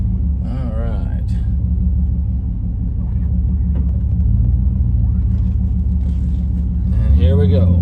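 A 1998 Chevrolet K1500 pickup with a 5-speed manual transmission, backing out on a Kansas afternoon, giving a steady, loud, close engine rumble throughout while someone talks over it.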